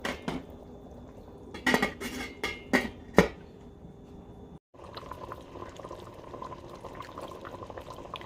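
Chopped vegetables for nilagang ribs tumble into a pot of simmering rib soup, a few clattering knocks of pot and utensil followed by a steady bubbling boil, close by with no talking.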